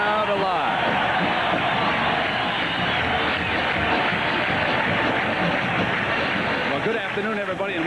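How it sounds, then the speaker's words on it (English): Loud, dense stadium crowd at a 1987 Notre Dame home college football game against USC, a sustained roar with rhythmic chanting swelling throughout, steady and continuous with no pause. "perhaps you heard part of the crowd behind me chanting, "Era, era, era.""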